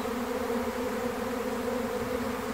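A honeybee swarm arriving at a beehive produces a dense, continuous buzzing drone, steady and fairly close, with no talk over it.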